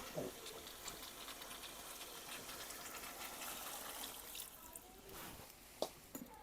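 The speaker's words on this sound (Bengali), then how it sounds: "এখন জল দিয়ে দেবো ঝোলের জন্য।" Water poured into a pan of Hilsa fish curry with cucumber, a steady close splashing, gushing wash that runs for several seconds and ends with a couple of sharp clinks.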